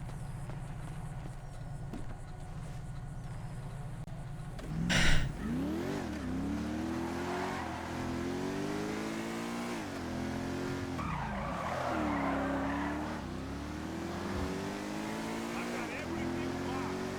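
In a video game, a car's engine revs up and down through gear changes, and tires skid at one point. Someone speaks French throughout.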